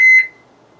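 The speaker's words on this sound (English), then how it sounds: "I got my smoke alarm going off here." A smoke alarm gives a single sharp electronic beep, loud and close, cutting off quickly into near silence.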